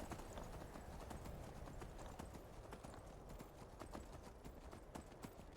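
Horse hooves clip-clop in a steady galloping rhythm in Skyrim, close and continuous, with a brief whinny at most and no talking over it.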